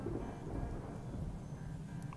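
Thunder rolling during a lightning storm in the video game Captain of Industry, a low continuous rumble with a rain-like hiss, steady and moderately quiet, with no voices.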